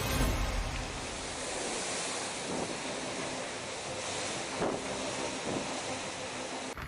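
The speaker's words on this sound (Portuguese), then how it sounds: "Neste momento, vemos como o vento fica mais forte" Strong wind roars continuously over crashing ocean waves, a dense, loud rush of noise with occasional surges and buffeting against the microphone.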